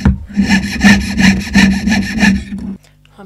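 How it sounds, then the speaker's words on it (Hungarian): A hand saw cuts a small flower shape out of wood in quick, rhythmic rasping strokes, about a dozen back-and-forth passes, loud and close, then stopping abruptly into quiet, with no talking. "ugyanúgy kifűrészeljük a kis virágunkat, mint ahogy a körlap terítékénél tettük"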